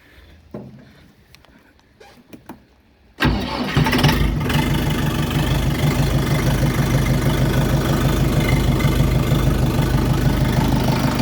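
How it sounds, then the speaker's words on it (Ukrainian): After a few seconds of quiet clicks and handling, a large Bulat 504 tractor engine of about 50 horsepower starts abruptly and settles into a loud, steady, rumbling idle. "Здоровий великий трактор"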